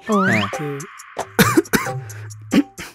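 A few harsh, close coughs and throat-clearing bursts, mixed with some brief tonal sounds.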